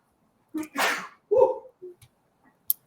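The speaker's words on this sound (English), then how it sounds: "I got a sneeze right there." One loud, explosive sneeze bursts out close by, followed by a short vocal sound and a few faint clicks in near silence.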